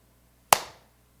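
A single sharp hand clap rings out on its own in a quiet church service setting, close and loud with a short decaying tail.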